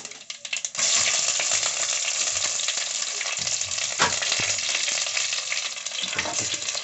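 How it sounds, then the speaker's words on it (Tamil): Mustard seeds, green chillies and curry leaves hit hot oil and burst into a loud, crackling sizzle that holds steady and close throughout, with a few sharp pops from the spluttering seeds. "இப்போது கடுகு பச்சை மிளகாவும் போட்டிருக்கோம். இது கொஞ்சம் பொரிஞ்சிருச்சு."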